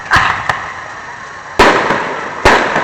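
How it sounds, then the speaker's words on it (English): Fireworks at a 2012 display burst with sharp cracks, several loud reports spaced a second or so apart, each trailing off in crackling decay. "Wow! Two fireworks."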